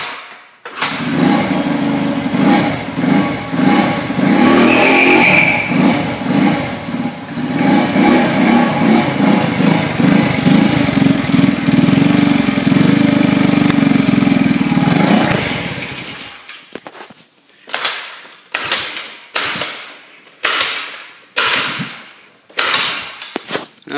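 A Jawa Super Scoot scooter engine roars loudly and steadily for about fifteen seconds with rising and falling revs, then drops to a rough, uneven idle with irregular pulsing bursts.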